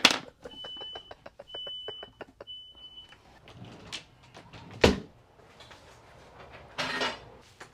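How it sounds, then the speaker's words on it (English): A home smoke alarm beeping while someone cooks: three short, steady high-pitched beeps in a row, faint and fairly distant, amid clattering dishes, cupboard knocks and kitchen clanks. "y'all hear the smoke alarm going off."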